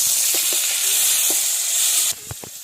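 Tomatoes dropped into a pan of chilli, ginger and garlic frying in oil set off a loud, steady sizzle, which cuts off sharply near the end and leaves a few soft stirring clunks over quieter frying.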